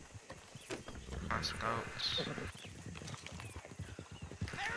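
Horse hooves clip-clopping at a gallop in the Red Dead Redemption 2 video game, a rapid rhythmic pounding with a whinny partway through, while someone speaks over it.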